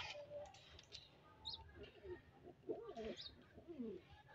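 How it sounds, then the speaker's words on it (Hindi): Faint bird calls sound outdoors near a rooster and chicks, a few soft chirps rising over a quiet background, with a voice speaking over part of the clip. "अच्छा चिड़िया बोल रही है"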